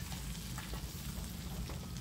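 Ground masala hits hot tempering oil for an amti over a medium flame, giving a steady, close, dense sizzle with faint stirring scrapes and no voices.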